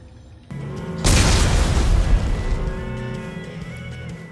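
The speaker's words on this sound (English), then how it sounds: "Computer, arm explosives. And detonate." Explosives detonate on vents in Dead Space 3, a sudden loud boom after a low rumble, with a heavy crash decaying into a long rumbling tail.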